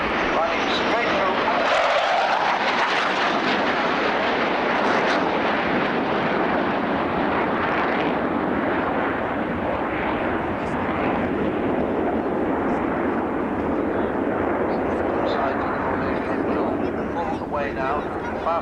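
Jet aircraft from a formation display team roar past at the 1989 RAF Scampton airshow during a bomb-burst manoeuvre. A loud, sustained engine roar swells and sweeps by with shifting pitch, and a commentator talks over it.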